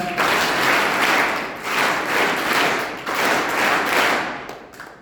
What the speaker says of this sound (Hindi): उनके लिए भी आप ताली बजाइए एक बार